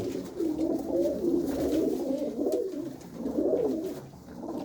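A pair of black Chinese pigeons coo in low, rolling, repeated phrases close by, with soft background noise.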